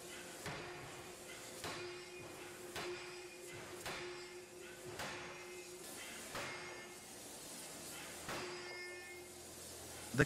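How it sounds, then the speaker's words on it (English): A pneumatic forging hammer's ram strikes a workpiece in an industrial shop, landing about eight spaced, moderately loud thuds with a faint metallic ring over a steady machine hum. "This pressurized air acts as the driving force behind the downward movement of the ram, delivering a powerful strike onto the workpiece below."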